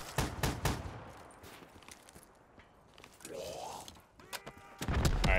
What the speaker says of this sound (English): Damn, this shotgun is hilarious.